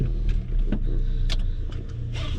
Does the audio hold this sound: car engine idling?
yes